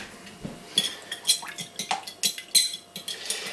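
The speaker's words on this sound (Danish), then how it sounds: "Den der meget ubehagelige lyd, sådan en tallerken har, når den bliver præsenteret for en gaffel." A metal fork scrapes and clinks against a ceramic plate in a series of short, sharp, irregular strokes, close and fairly loud with brief pauses between.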